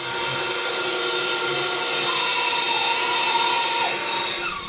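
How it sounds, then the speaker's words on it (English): A bandsaw rips a length of 2x4 lumber into battens in a workshop, giving a loud continuous whining cut with a steady motor drone throughout, close by and alone. "I'm just going to run it straight through the bandsaw."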